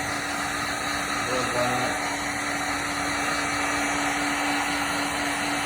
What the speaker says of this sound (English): Heat gun keeps heating up here